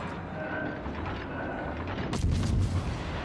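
Warship guns firing in World of Warships Legends, a heavy booming salvo erupting partway through over a steady rumbling battle ambience, with deep low-end thunder after the blast.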